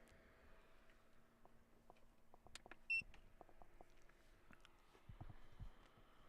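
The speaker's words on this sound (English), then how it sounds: "If you hear the beep, I'm just looking at the battery percentage." A single short electronic beep from a battery-level check rings out once amid quiet background ticks and faint clicks, at Adelaide Airport.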